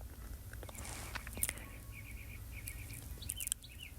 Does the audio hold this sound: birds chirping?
yes